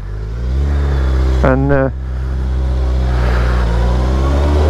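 A 2021/2022 Suzuki Hayabusa superbike ridden on a snowy day gives a steady low engine drone with wind rush, while a rider briefly speaks over it.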